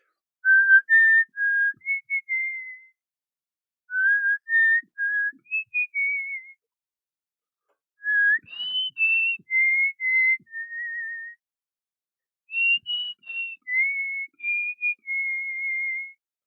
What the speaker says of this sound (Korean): 이 노래를 잘하시나 보네. 휘파람 잘 부는 거 보니까.